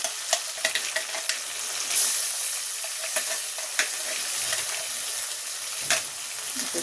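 Ginger-garlic paste and onion paste sizzle and fry in hot oil in a pan, a steady crackling hiss punctuated by stirring scrapes and sharp pops, with no talk over it.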